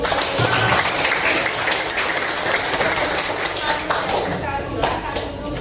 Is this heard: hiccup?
no